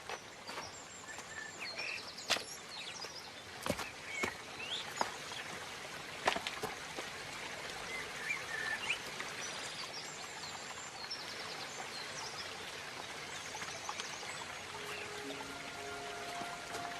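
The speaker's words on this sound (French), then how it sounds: "c'est ici, à côté du ruisseau." A small brook runs steadily beside a footpath in a continuous, moderately close trickle and pour, with scattered sharp clicks and occasional faint bird calls over it.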